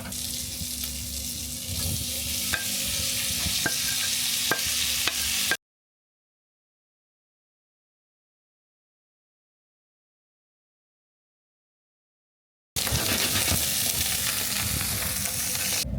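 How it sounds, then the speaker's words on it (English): Mushrooms fry in butter in a pan with a dense, continuous sizzle and occasional stirring clicks, cut by a long silent stretch midway before the frying resumes just as loudly. "I'm gonna add a little bit of butter in the mushrooms."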